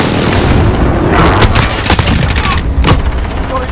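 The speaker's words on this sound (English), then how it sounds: "Friendly position airstrike inbound." Airstrike explosions rumble through a Call of Duty: Modern Warfare battle, a dense run of loud booms and blasts with sharp impacts near 1.5 and 2.9 seconds amid continuous low rumble and scattered gunfire.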